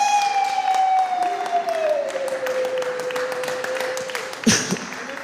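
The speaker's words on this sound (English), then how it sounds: "I want to give a big round of applause" An audience at a junior high school quiz contest claps steadily, a dense spatter of hands running throughout, with a sustained thin tone hanging over it and one sharp knock near the end.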